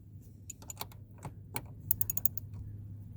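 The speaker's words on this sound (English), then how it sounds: "it calls for a 10 millimeter ratchet, so that's what I got here" A 10 mm ratchet loosens a bolt while a Durango RT Jet Xcelerator is fitted, giving sharp, uneven clicks that bunch into a quick burst near the end over a steady low hum.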